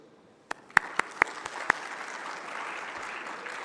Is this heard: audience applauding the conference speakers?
yes